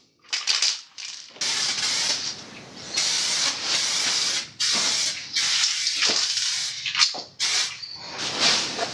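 Clear coat sprayed from a can onto a Honda motorcycle fuel tank and fairings, close, loud hissing bursts of several seconds each, separated by short pauses, with no talking.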